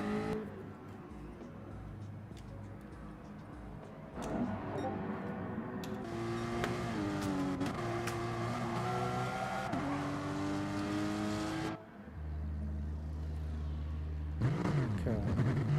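A Jaguar race car in a racing video game revs its engine through a lap of the Brands Hatch GP circuit, rising and falling gear changes with a sharp drop near the end before revving up again.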